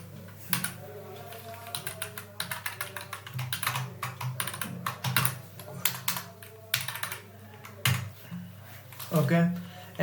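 HTML code being typed on a computer keyboard: quick, irregular bursts of close key clicks and taps, with pauses between runs and a voice talking at times.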